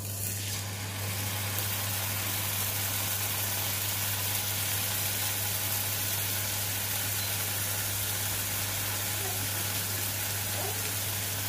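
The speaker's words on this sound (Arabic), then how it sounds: "لي سبادون هذا غادي نقليو غير واحد جوج دقائق من كل فاس" Swordfish steaks fry in a little oil in a pan, giving a steady, continuous sizzle with a low background hum throughout, moderately loud and close, with no talking.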